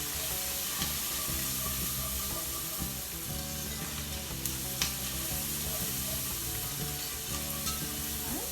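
Garlic frying with onions in a pan for scalloped potatoes with ham, a long, even sizzle up close with a low steady hum beneath and a couple of faint clicks of stirring.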